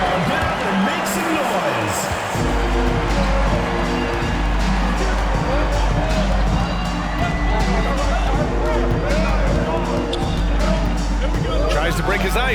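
Arena crowd noise fills an NBA 2K23 basketball game: steady babble and cheering run throughout, with a low thumping beat and an announcer speaking over it.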